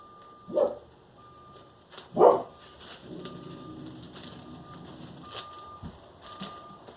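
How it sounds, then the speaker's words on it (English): A couple of short vehicle reversing beeps sound at a distance, spaced about a second and a half apart, over a low steady rumble of traffic or machinery. "I thought the beeping was a car backing into my driveway"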